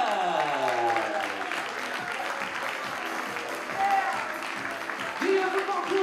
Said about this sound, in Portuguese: uma grande salva de palmas para as três equipas